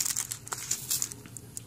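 Small bubble-wrap mailer from an AliExpress nail-supply order crinkles and rustles as it is handled, with soft, irregular plastic crackles running steadily throughout, close up and fairly quiet.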